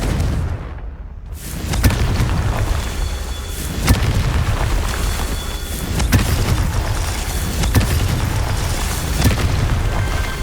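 Fiery spell blasts from Confringo in Hogwarts Legacy booming repeatedly over a continuous rumble of combat, with several sharp explosive hits spaced a couple of seconds apart after a brief lull.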